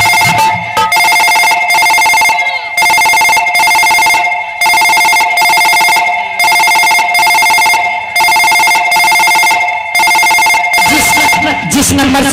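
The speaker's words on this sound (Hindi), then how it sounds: "अभी भी महारानी जी के फोन लगा रहे हैं" A telephone rings over and over in steady repeated bursts while a call is being placed during a staged Angika folk drama performance, loud and close throughout.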